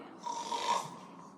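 A human voice imitates a bear snoring, a single drawn-out nasal rasp with a droning hum that swells and fades over about a second, close and moderately loud.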